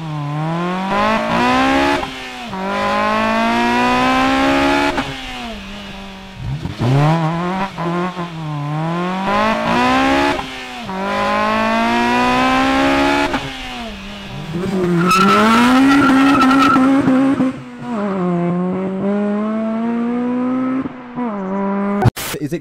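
A Honda Civic Type R FD2 engine revs hard through rising gear pulls on a short gear ratio, each climb in pitch followed by a drop as it shifts, loud and close.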